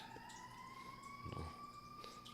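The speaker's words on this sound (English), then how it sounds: "Hold for the siren." Emergency siren passing outside a building, a faint steady wail gliding slowly upward and holding as it goes by, heard at a distance through the room with low rumble in the background.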